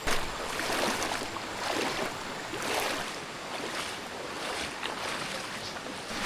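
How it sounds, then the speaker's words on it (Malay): Water swishes and splashes steadily as someone wades on foot across a clear, gently flowing river, a continuous broadband rush with soft surges, fairly close and without talk. "Okay, hampir sampai ke lokasi tapi kena lintas sungai lah."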